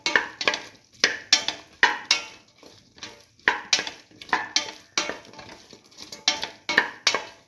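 A spoon stirs and mixes salt into a pot of eggplant and rice, scraping and clinking against the cookware in quick bursts of strokes with short pauses between them.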